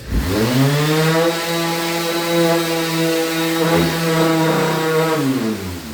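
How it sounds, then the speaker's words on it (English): A power sander whirs steadily up close on painted wood, a continuous motor whine that shifts slightly in pitch as it works, with no talking. "then we give it a light sanding like this"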